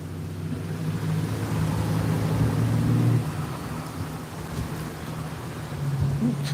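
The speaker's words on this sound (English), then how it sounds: "It's definitely pretty windy out there today." Wind blowing outdoors before a storm at a carp and catfish fishing spot, a steady broad rushing roar buffeting the microphone, with low droning rumbles mixed in, loud and continuous with no voices.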